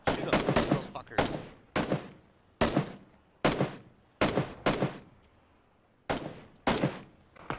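Gunfire in PLAYERUNKNOWN'S BATTLEGROUNDS, sharp close bursts of shots fired in quick clusters of two to four, separated by short pauses, loud and crisp with brief echoing decays.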